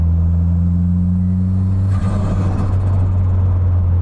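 A deep, steady Toyota MR2 engine rumble, fitted with a minivan engine, with a strong low hum, swelling briefly as if revved, then settling back into a loud idle.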